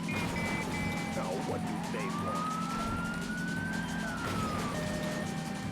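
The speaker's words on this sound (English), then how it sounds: "apparently the London police sirens, it has the normal police noise" A London police car siren in the racing video game Midnight Club: Street Racing wails with rising and falling tones over a steady engine drone, loud and continuous, with no voices.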